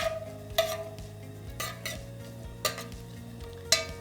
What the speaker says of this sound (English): along with ginger garlic paste, green chilies, fresh curry leaves. Let's saute this for a couple of minutes,